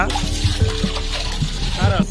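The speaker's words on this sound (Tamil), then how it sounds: "தண்ணி ஊற்றி அதை வந்து கிண்டி விட்றாங்க." Sugar and water stirred together for syrup in a pan, with light scraping and sloshing taps from the spoon, repeated at an irregular pace close by, with faint voices behind.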